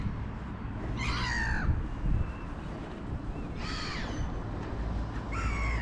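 Crows caw outdoors in three separate bursts of harsh repeated calls, moderately near, over a steady low background hum.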